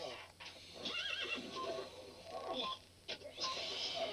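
A horse in Red Dead Redemption 2 whinnies several times over steady clip-clopping hooves, with game sounds running throughout at moderate loudness.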